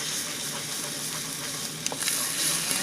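A spoon stirs scrambled eggs frying in a pan, giving a continuous soft sizzle close by with a few light scrapes near the end.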